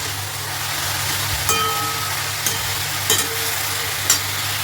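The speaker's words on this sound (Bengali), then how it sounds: "এবার এটাকে ভালো করে নাড়াবো।" Vegetables seasoned with salt, turmeric and chilli powder being stirred in a pan over a steady, moderate sizzle, with a few sharp scraping clicks of the utensil against the metal.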